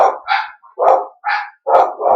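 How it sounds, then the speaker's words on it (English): A dog barks outside in a steady series of five or six loud, close woofs, each about half a second long with short pauses between them. "there's a dog walking by outside"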